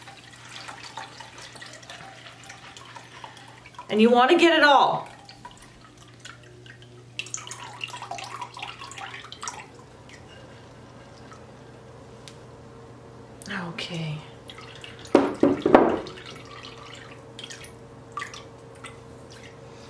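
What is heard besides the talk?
water draining from soaked wheat through a strainer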